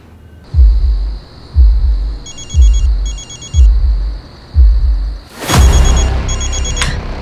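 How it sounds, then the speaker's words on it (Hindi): A phone rings with an incoming call, its electronic ring tone repeating in short bursts over a series of heavy, rhythmic booming thuds, ending in a loud whooshing swell. "पापा ध्रुव के नंबर से फोन आ रहा है."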